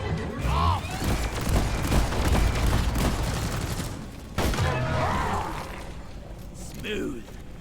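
Gunfire in the Dwarves video game, a dense spell of rapid shots and impacts over a noisy battle soundscape, with a strong burst midway and voices around it.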